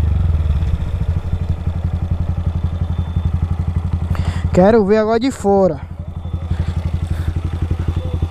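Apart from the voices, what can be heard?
motorcycle engine running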